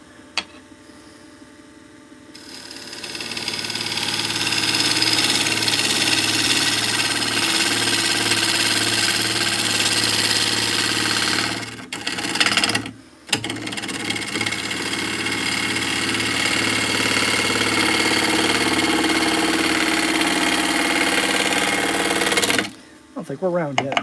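A wood lathe spins steadily while turning a piece of wood, a loud continuous whirring drone that briefly drops out twice before resuming, with someone talking over it.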